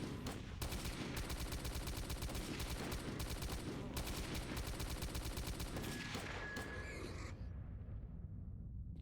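Gunfire in the video game S.T.A.L.K.E.R.: Call of Pripyat: dense, continuous bursts of rapid shots and automatic fire that thin out and stop near the end, leaving a brief high ring.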